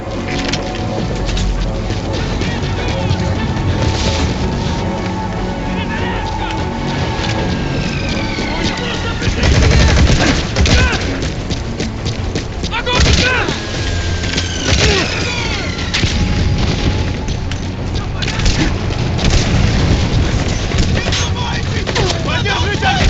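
Loud unsuppressed gunfire in Metal Gear Solid V: The Phantom Pain cracks in repeated bursts amid a dense, noisy game soundscape, with voices talking over the action.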